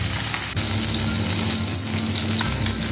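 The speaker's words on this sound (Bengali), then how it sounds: "আমি সব মাছগুলো একবার ভেজে নিচ্ছি" Bata fish sizzle steadily in hot oil in a pan, a dense, continuous close-up crackle that holds without a break for a few seconds.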